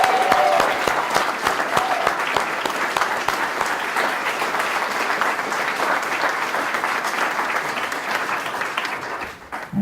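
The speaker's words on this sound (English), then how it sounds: "let me hear you clap and roar." Wedding guests at a humanist ceremony clap and cheer loudly and steadily for about ten seconds, a dense, continuous wash of applause with voices mixed in that tails off at the very end.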